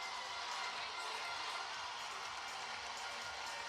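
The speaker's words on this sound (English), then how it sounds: "And the reaction from the crowd." Arena crowd at the rhythmic gymnastics world championship group hoops final in Sofia, Bulgaria, a dense steady roar of cheering that fills the space evenly, distant and constant.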